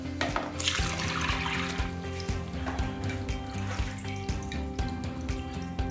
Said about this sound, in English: Strain the stock back into here again.